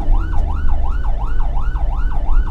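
An on-duty ambulance siren wails loud and close in a rapid, regular yelp cycle, repeating about seven times over a low rumble of engine and traffic on a road toward Surakarta.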